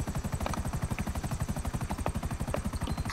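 A helicopter in the video game GTA 5 chops rapidly and evenly, its rotor beating in a steady pulsing rhythm at fairly close range, with no talking over it.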